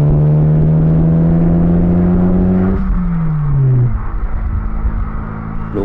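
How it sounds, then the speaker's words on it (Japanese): Car engine under full-throttle acceleration from 60 to 80 km/h on a road after an air filter change, a steady rising drone that shifts pitch midway as revs change, close and loud with no talk. "60キロからこの道路の制限速度80キロまでアクセルベタ踏みしてみましたが"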